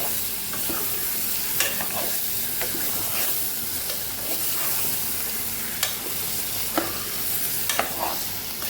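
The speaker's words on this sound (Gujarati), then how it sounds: "બટેકાને સરસ મસાલા સાથે આપણે સાતળી લેવાના છે।" Potatoes sautéing with masala in a pan for a Kathiyawadi-style potato curry, giving a steady close sizzle and fry with scattered stirring clicks and scrapes throughout, no voices.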